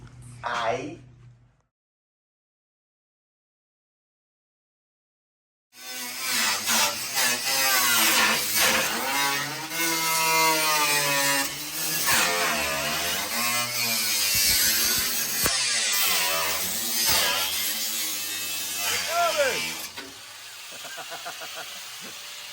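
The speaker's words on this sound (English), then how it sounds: "I'll grind this thing off so we can get that piece off of there" Steady loud grinder cutting through metal on the floor of a 1985 Jeep CJ7 under restoration, running continuously for about fifteen seconds after a short silence, with a wavering pitch as the cut loads and eases.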